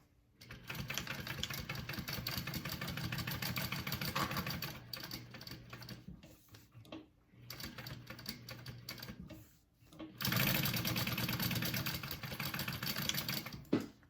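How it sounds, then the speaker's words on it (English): A sewing machine stitches along the sides of a fabric game bag in close, rapid mechanical runs, stopping and restarting several times with short quiet gaps between bursts. "we're going to sew along the two sides to close that up"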